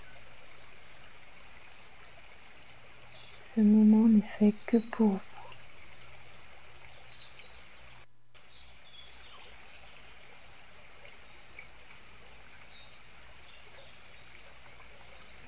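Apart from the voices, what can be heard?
flowing river water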